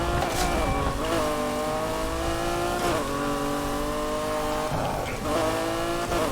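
Modified pickup truck engine in Need for Speed Heat, a steady revving drone with shifting gear pitches and brief tire noise, loud and continuous throughout.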